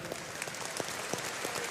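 A stadium crowd gathered for the Munster v Barbarians rugby match applauds during a moment of applause, a steady distant patter of many hands with scattered louder claps.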